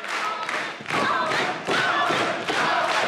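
A crowd roars and cheers at a women's pro wrestling tag-team title match in Korakuen Hall, a loud continuous swell with rising surges and scattered thuds.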